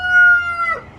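A rooster crows once from a backyard flock of about thirty chickens, a loud, close, drawn-out call that rises, holds, then breaks off into a short falling tail.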